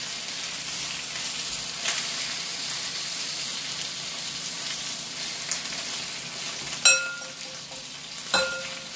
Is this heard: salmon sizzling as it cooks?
yes